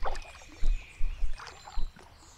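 A kayak paddled along the Basingstoke Canal in cool, damp shade, with soft water splashes and dips from the paddle strokes spaced about half a second apart, close and fairly quiet.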